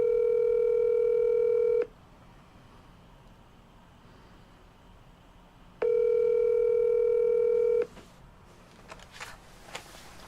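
A phone call goes out as two long, loud ringback tones separated by a quiet pause, then cuts to clicks and scattered noise as the line drops toward voicemail.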